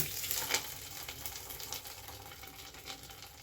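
Tempering for coriander pongal sizzling and frying in hot oil, a steady close crackle with scattered pops and little else.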